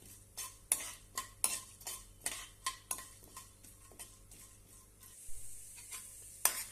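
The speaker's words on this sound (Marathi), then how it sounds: "आणि एक चमच उडीद डाळ आणि छानपैकी आपण हे परतून घेऊया" Urad dal is sautéed in a pan, with a spoon scraping and tapping against the metal in a quick, regular rhythm over a faint sizzle. Close and quiet.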